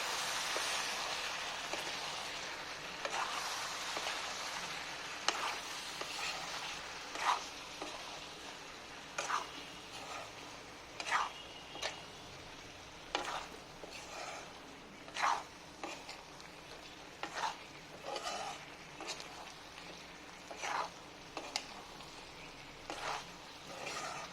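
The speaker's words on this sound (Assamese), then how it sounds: "এতিয়া মই আকৌ এইখিনি লৰাই দিম মানে মিক্স কৰি লওঁ" Chicken frying in chicken oil crackles with a steady sizzle while a utensil stirs it, scraping in repeated short strokes that grow more regular toward the end, close and moderately loud with no voices.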